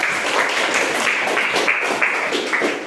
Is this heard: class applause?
yes